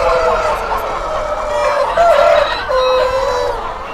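Many chickens at a large breeder farm crow and cluck together in a dense, loud chorus, with overlapping calls rising and falling for a few seconds.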